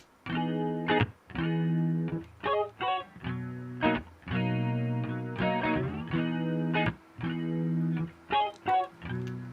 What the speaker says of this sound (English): I added a chorus, which is choral from Native Instruments, which sounds like this.